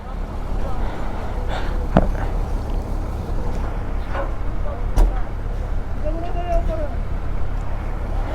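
Stalled traffic at the Sarchu bridge on the Sarchu to Pang route in Ladakh: a steady low rumble of idling engines mixed with wind noise, a few sharp clicks and a brief horn-like tone, with a voice speaking nearby.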